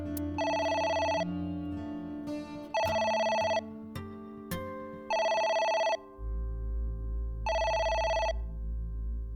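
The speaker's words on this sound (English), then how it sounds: "It's the phone." Telephone in the video game AI: The Somnium Files ringing loudly in repeated bursts of electronic trilling tones, with in-game music underneath and no speech.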